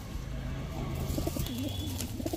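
A pair of grizzle racer pigeons coo in low, throaty rolling calls, repeated several times close by over a faint steady background.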